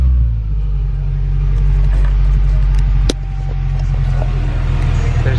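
A 1990s Acura Integra DC2 engine idles with SeaFoam treatment being fed in. The steady, close, deep rumble holds throughout with a slightly uneven idle.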